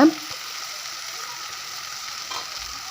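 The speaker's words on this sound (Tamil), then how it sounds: "இஞ்சி பூண்டு விழுதையும் பச்சை வாசம் போகிற அளவுக்கு நல்லா வதக்கி விட்டுக்கோங்க." Ginger garlic paste sautéing in hot oil in a pan, a steady close broadband sizzle that holds level throughout after a brief louder start, with no talk.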